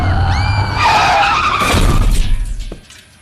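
A car in a film skids out of control and crashes into another car: loud tyre squeal rising and wavering, a rough scraping surge, then a sharp impact before the sound drops away.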